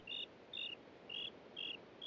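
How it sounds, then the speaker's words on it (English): Crickets chirping in a Minecraft game world, a faint, regular pattern of paired high-pitched chirps repeating about twice a second over a soft background hiss. "crickets are annoying"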